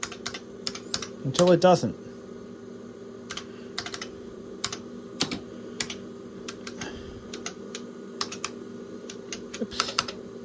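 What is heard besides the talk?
typing on an IBM computer keyboard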